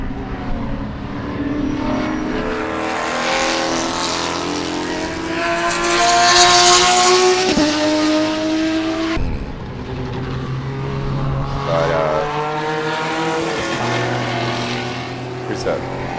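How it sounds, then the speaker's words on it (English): A Lamborghini race car roars past a Spec Corvette at Sebring, engines droning loud and sustained with rising and falling pitch, while a commentator talks over the track noise. "There's that leading Lamborghini as he makes his way past another one of the Spec Corvettes."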